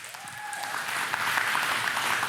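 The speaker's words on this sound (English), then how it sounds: "You can clap for that." Church congregation applauding during a sermon, the clapping swelling from a light start into steady, dense applause that fills the room.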